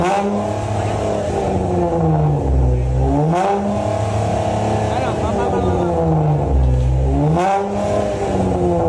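A motorcycle engine revs up and down twice through its exhaust, loud and close, rising to a roar then dropping back to idle.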